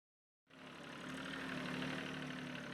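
A tractor engine starts up abruptly and settles into a steady, fairly loud idle with an even low drone and faint mechanical vibration, heard alone with no talk.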